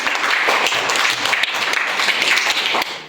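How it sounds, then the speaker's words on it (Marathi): Children clap together during a quiz program at a village Zilla Parishad primary school, giving a loud, busy patter of many small hands that runs continuously and then tapers off at the end. "सगळ्यांनी टाळ्या वाजायच्या"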